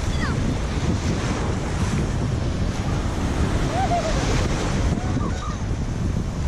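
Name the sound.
ocean waves breaking at the beach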